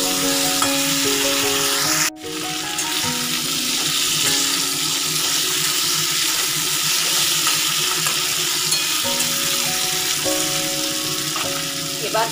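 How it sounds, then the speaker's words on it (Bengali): Beans fry in a pan with a loud, steady sizzle close up, joined by running water from a kitchen tap; one sharp knock lands early and the sizzle carries on unbroken. "শিম, এভাবে ভেজে নেব।"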